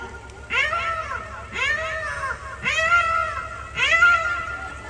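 Someone imitates a cat, giving three drawn-out meows in a steady rhythm, close and clear with short pauses between them.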